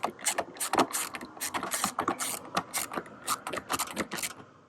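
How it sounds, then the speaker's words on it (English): A ratchet snugs the blower motor bolts on a 1997 Ford F350 truck, giving quick bursts of clicking pawl sounds up close, with short pauses between runs. "Get all 4 bolts tightened back up."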